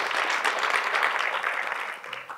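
Audience applause at a panel discussion on poverty in Chicago, a dense, even patter of many hands clapping that fades slightly toward the end.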